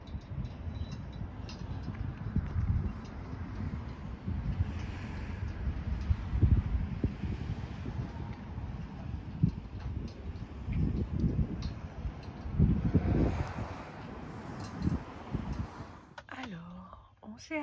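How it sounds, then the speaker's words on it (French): Wind gusts roar steadily across a microphone on a small harbour promenade in Digby, Canada, a broad low rumble that swells and eases for the whole stretch, with faint flapping from flags underneath; a voice talks quietly in places. "Les drapeaux flottent au vent."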